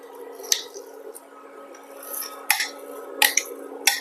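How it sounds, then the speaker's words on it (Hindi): Soaked halim seeds are spooned into a laddu mixture, giving soft wet squishes and a few light clinks of utensil on bowl. The sounds are close and quiet over faint background noise. "हलीम सीड ऐड करते हैं"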